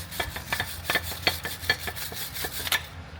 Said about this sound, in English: What I'm doing is cleaning all the dust and brake dust out of here.